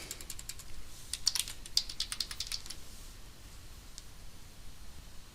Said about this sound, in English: Then type in the new information.